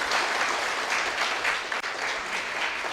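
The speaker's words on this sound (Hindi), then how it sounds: "सब के लिए एक बार ताली बजा दो।" An audience claps steadily, with a dense, continuous applause filling the room for a few seconds.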